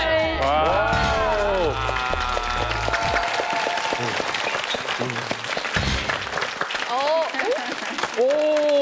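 A television studio audience claps along during a shoulder-blade exercise count, with rhythmic clapping under loud music and a host's voice calling out, bursts of hand claps layered through the busy mix.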